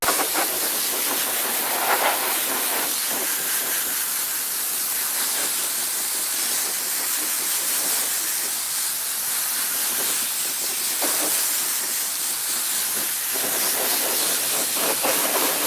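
Spray gun steadily hissing as it sprays upholstery glue straight from the canister, unthinned, while a black suede package tray is installed in an Infiniti G37; a continuous, close, even spray with slight pulses and no talk.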